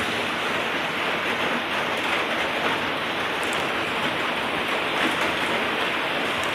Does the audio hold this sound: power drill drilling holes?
no